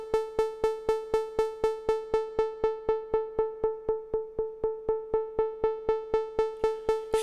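Rapid repeating synth notes pulse steadily, the tone dimming slightly in the middle then brightening again, never turning fully dark or muffled.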